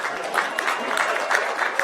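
An indoor audience at a campaign launch speech bursts into steady, dense applause, many hands clapping close by at an even level throughout.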